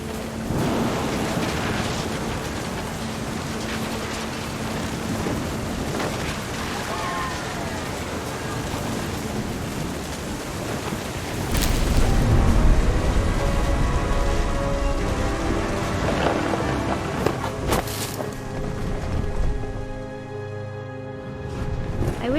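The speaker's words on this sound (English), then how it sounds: "The thunder sounded much too close and full of angry power." Steady rain and a deep rumble of thunder in the video game What Remains of Edith Finch, a constant wash of downpour with a heavier low roll midway, a voice faintly present underneath.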